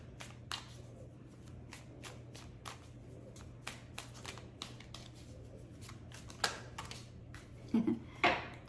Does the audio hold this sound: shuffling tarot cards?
yes